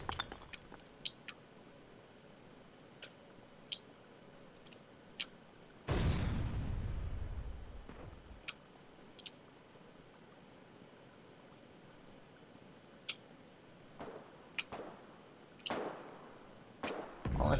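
Distant gunfire in the war game Foxhole, scattered sharp single cracks and short pops spread irregularly over quiet ambience, with one louder blast and rumble midway.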